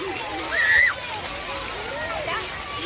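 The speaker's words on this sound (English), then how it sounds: "Get under the shower." Water pours steadily from a dinosaur-head shower at a water park, a constant splashing wash with no break, while people's voices call out over it.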